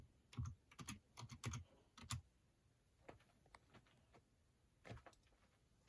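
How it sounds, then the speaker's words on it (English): A name is typed on a computer keyboard, with quiet close keystrokes in quick irregular clusters, then sparser single taps with pauses between. "And we're going to type in the writer's name, Dacher, Keltner."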